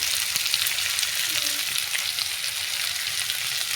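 Green chillies fry in a pan with a bright, continuous sizzle for a rohu fish curry with taro, close and fairly loud, with light stirring throughout.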